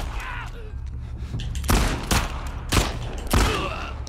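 Several heavy gunshots from the video game The Last of Us Part 2 blast out in irregular succession, each a loud sharp crack with a booming tail, spaced roughly half a second to a second apart.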